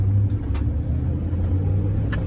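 A car driving along a road, its steady low engine and tyre rumble continuous and close throughout, with no talk over it.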